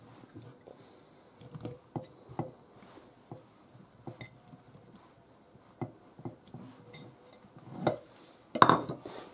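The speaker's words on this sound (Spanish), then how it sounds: "Echamos los palitos de cangrejo." Crab sticks drop into a mixing bowl that already holds prawns for a prawn pâté: soft, scattered thuds and light clinks against the bowl, with a brief louder knock near the end.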